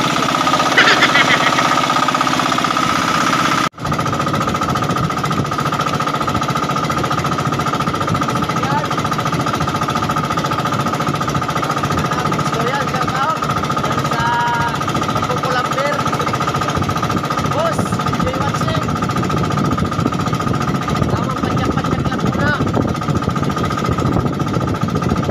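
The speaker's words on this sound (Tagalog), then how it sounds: "Shout out pala sa maingay namin na generator." A noisy generator runs loud and steady near a seaside fishing spot in Masbate, its constant mechanical drone and rattle filling the scene, with faint voices under it.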